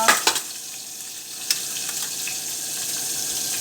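A dal tempering with tomato and curry leaves sizzles steadily in hot oil, with a few sharp crackles and spits near the start.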